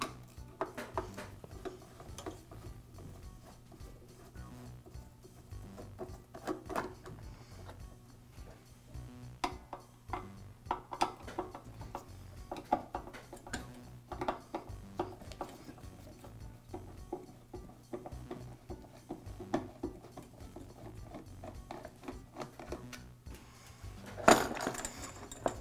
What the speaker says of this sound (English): Next, I'll remove the belt cover. It's secured with two screws.